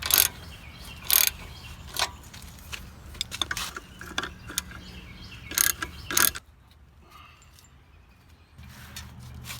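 Wrenches break loose the control arm bolts on a wrecked Jeep Rubicon during a rebuild, giving sharp ratcheting clicks and metallic clanks in irregular bursts up close, then quieter work after a pause.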